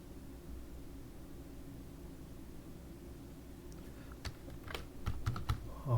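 Computer keys are tapped in a brief burst of quick, light clicks that start after a few seconds of faint room hiss, quiet and close.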